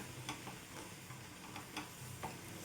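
Wheat flour cooking in milk in a pan, stirred with a spoon, giving soft repeated scraping strokes over a faint steady sizzle, fairly quiet and close.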